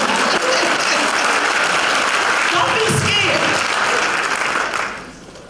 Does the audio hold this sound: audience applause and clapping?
yes